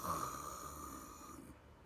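A voice imitates snoring in one long, rough drawn-out breath, close and fairly steady, fading out near the end.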